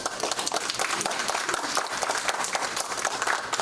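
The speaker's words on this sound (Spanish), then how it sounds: "Un aplauso, por favor, para Luis Enrique." A crowd claps for a speaker taking the stage, brisk dense applause heard steadily at moderate level across a few seconds without any voices.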